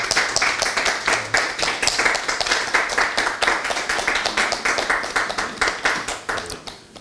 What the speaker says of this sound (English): Please let's clap for Ambassador and Mr.